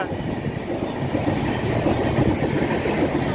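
A train rumbles past a station near Fatehgarh Sahib steadily at full speed without stopping, a continuous loud roar with faint clickety-clack of wheels and no slowing.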